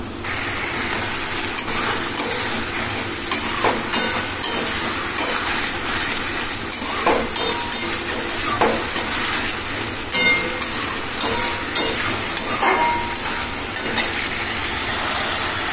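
Masala frying in plenty of oil for a fish curry, a dense continuous sizzle with scattered scraping stirs, loud and close throughout.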